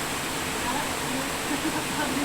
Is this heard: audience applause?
no